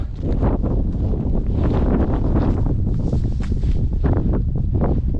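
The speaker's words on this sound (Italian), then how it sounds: "Purtroppo c'è un po' di vento" Strong gusting wind at the summit cross of Monte Pendolo buffets the microphone continuously, a loud rough roar with bursts of rustle throughout and no voices.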